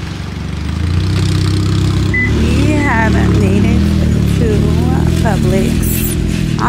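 A loud car engine idles and revs steadily close by in a grocery store parking lot, a continuous low rumble filling the scene while someone talks over it.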